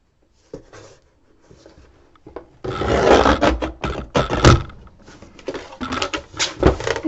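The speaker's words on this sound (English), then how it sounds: "So let's go ahead and cut one of these." A paper guillotine slices through mat board for a shadow window box, with a faint scrape at first, then a loud, close run of grinding, rasping cuts and strokes.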